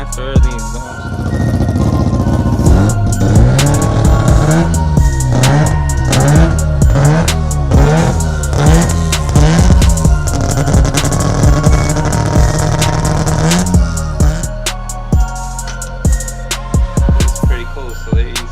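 A BMW M3 exhaust revs repeatedly, a loud rhythmic series of engine blips rising and falling in pitch close by, then settling into a rough idle with occasional pops.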